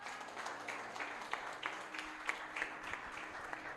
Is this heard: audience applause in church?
yes